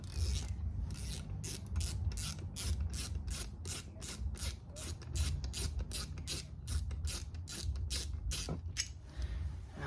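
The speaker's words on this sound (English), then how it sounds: "Dragging a brand new caliper all over the ground." A hand ratchet clicks in quick repeated bursts while a car brake caliper is being changed, a close, rhythmic run of sharp metallic strokes.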